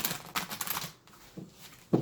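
Tarot cards being shuffled by hand, a close, fast run of crisp papery riffling and flicking that stops briefly, then returns in short bursts with a sharper snap near the end.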